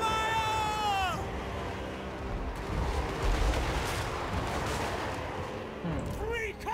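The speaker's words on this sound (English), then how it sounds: "Artillery" Artillery fire in the Total War: Warhammer III game during an Empire campaign, rumbling cannon blasts and crackling volleys rolling on continuously, with a whistling shell at the start and another near the end.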